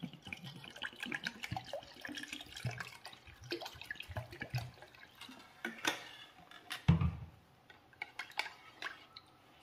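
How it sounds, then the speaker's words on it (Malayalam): Water is poured into a homemade buttermilk and gooseberry drink, a quiet trickle and splash with scattered clinks of utensils and a container, without talk. "ഇതിലേക്ക് വെള്ളം ചേർക്കാം."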